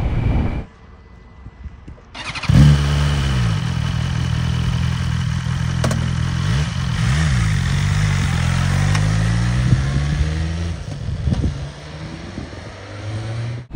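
A BMW superbike engine starts up and runs steadily close by, a loud, even mechanical drone with a slight rise and fall in pitch and no voices, after a couple of seconds of quieter background.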